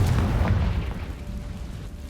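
A Confringo blasting spell goes off in Hogwarts Legacy inside a cobwebbed old room: a single deep, rumbling explosion that swells at once and fades slowly into a low tail.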